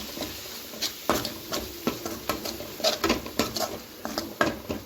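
Spoon stirring ground spice powder into a tomato curry in a pan for sundakkai vathal puli kuzhambu, giving repeated scraping and clinking strokes at an uneven rhythm, close and fairly quiet, with no talk.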